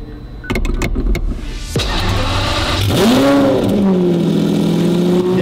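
A Mercedes DDE supercar engine starts up and revs, then settles into a steady rising drone as it pulls away, loud and close with no talking.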